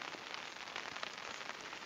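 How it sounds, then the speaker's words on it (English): Rain patters steadily on a Warbonnet Blackbird hammock tarp pitched over goats and dogs, a dense, even hiss of drops that continues without a break. "And here it is raining, so you can see how it's successful doing that."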